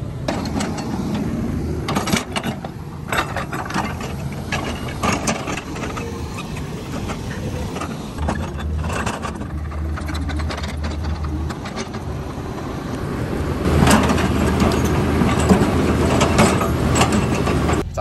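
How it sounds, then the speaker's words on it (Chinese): An excavator engine on a construction site in Guinea-Bissau idles with a steady diesel chug, then revs higher near the end, loud and close with mechanical clatter throughout. "一拉这个怠速啊，听个声音怠速一下就高了哈"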